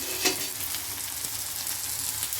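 Onion dosa frying in oil on a hot pan, a close, steady crackling sizzle with bright hissing texture throughout and one brief louder spatter near the start, with no talking.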